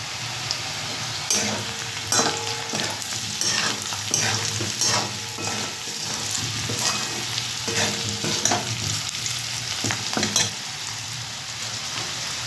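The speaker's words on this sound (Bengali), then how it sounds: "এইভাবে আলুগুলো দিয়ে আপনারা একটু এর সাথে আঁচটা একটু কমিয়ে ভাজবেন" Potatoes frying with turmeric in a pan over low heat, a soft continuous sizzle broken by repeated scraping stirs of a utensil, close and fairly quiet.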